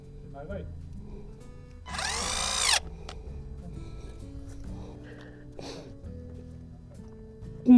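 A power drill backs screws out of a bamboo four-eyed lattice fence in a Japanese garden, a short high whine burst mid-clip amid scattered clanks and handling noise, with people talking nearby.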